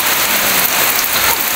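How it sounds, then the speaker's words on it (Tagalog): Heavy rain pours steadily onto a surface, a dense unbroken hiss that stays loud and even throughout with no voices. "Inaabot na kami ng ulan dito. Ako, lakas ng ulan."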